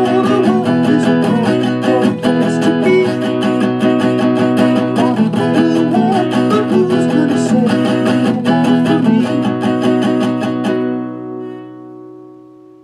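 Guitar strumming the repeated four-bar verse chord pattern of a song, steady rhythmic chords played alone and up close for about eleven seconds before ringing out and decaying.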